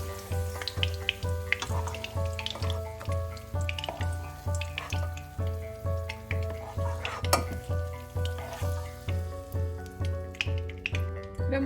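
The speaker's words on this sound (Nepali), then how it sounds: "अब यो प्याजलाई चाहिँ हल्का फ्राई गर्नुपर्छ।" Onions for a capsicum paneer gravy fry lightly in a pan, a steady close sizzle with a gently pulsing rhythm, heard alone with no talking.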